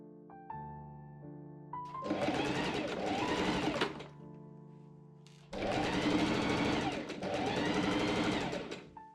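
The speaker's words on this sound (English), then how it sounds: "I pin and machine sew the sleeve seams up." A sewing machine stitches the sleeve seams of a Victorian tea gown in two sustained whirring runs, each a couple of seconds long, separated by quiet pauses with a faint background hum.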